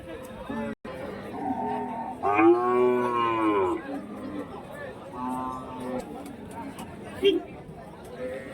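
Calves mooing at the Kundarapalli cattle market in Krishnagiri: several drawn-out moos rise over a busy background of chatter and crowd babble, with people talking nearby.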